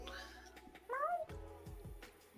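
A cat gives a short rising meow in the middle of the clip, close and fairly loud, with low room noise and faint background sounds around it.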